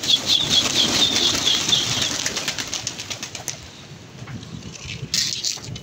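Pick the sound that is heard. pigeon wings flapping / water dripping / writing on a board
pigeon wings flapping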